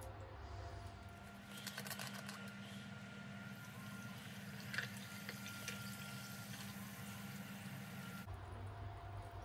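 San Pellegrino sparkling water pours and bubbles steadily into a glass for several seconds, with a soft crackle of carbonation, then stops abruptly.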